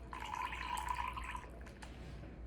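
Lemon juice pours into a cup in a short trickling stream lasting about a second and a half, fairly quiet and close, followed by a faint click.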